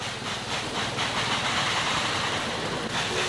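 Steady broadband rush and hiss of a train sound effect, loud and continuous with a faint rhythmic chuffing texture and no speech.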